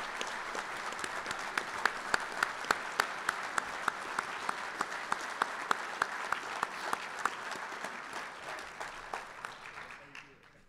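Banquet audience at a Marine Corps logistics awards dinner claps for an honoree, a sustained even round of applause with a few sharp nearby claps standing out, fading out near the end.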